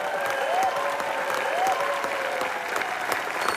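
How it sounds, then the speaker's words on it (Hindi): Studio audience at a Hindi TV comedy show applauds two guest actresses, a steady dense wash of clapping throughout at moderate loudness, with a faint musical tone sliding beneath. "इनके लिए जोरदार तालियां होनी चाहिए"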